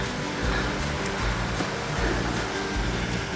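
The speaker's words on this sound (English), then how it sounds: "I'm starting to hear a little bit of water." Running water from a mountain stream or waterfall in Colorado's Ice Lake Basin rushes as a steady, broad hiss, heard from some distance with faint footsteps and no talking.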